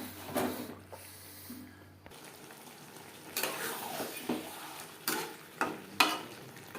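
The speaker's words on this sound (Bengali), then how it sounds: "মিডিয়াম ফ্লেমে মশলার সাথে আলু এঁচোড় কষিয়ে দেবো" Potato and jackfruit sautéing with spices in a pan over medium flame, giving soft sizzling with intermittent scraping and stirring clatters close by, fairly quiet overall.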